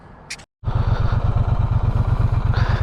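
A Triumph T120 motorcycle on the move, its engine a loud, steady, throbbing drone under wind rush, starting after a brief dropout and carrying on close and strong to the end.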